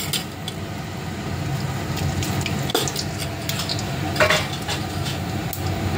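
Whole cumin seeds fry in hot oil in a wok, a steady hiss with a few light metallic clinks and scrapes from stirring.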